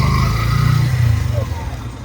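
A motorbike engine rumbles low and steady at close range while being parked at a railway station parking area, with a voice talking over it.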